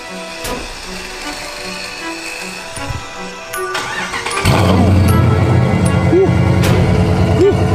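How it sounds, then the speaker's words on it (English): A Mercedes with headers cold starts: clicks and cranking, then the engine catches and settles into a loud, steady idle with a couple of revs. "we're gonna go ahead and hit y'all with the cold start"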